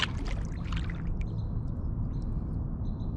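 Canoe gliding on perfectly still big water in the early morning: quiet paddle drips and trickles up close in the first second, then faint water sounds and distant birds over a low ambient rumble.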